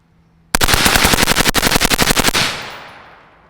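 Suppressed rifle emptying a magazine in one rapid, evenly spaced string of about twenty loud, close shots, ending with a lingering outdoor decay.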